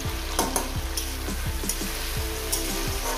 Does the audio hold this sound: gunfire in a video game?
no